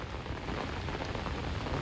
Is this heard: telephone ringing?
no